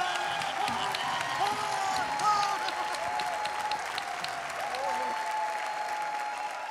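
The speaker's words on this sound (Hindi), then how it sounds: "जे जे टीवी देखता संसार में सब कोई ताली बजावे" Studio audience applause on a Bhojpuri singing competition stage after a performance, a steady, dense wash of clapping lasting several seconds with no talk over it.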